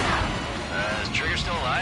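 Aircraft cannon fire from an F-2A jet in the Ace Combat 7 campaign, a dense, continuous roar of rapid bursts with a dogfight's whooshing and radio voices layered over it throughout.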